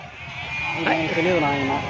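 Goats and kids bleating at the Gudur weekly livestock market, one wavering bleat rising over crowd noise and overlapping voices close by.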